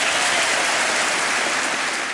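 A large audience applauds at Bill Clinton's State of the Union address, dense continuous clapping filling the hall at a steady, loud level with no voices over it.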